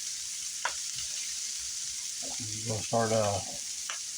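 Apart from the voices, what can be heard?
garlic and onions sizzling while stirred in pan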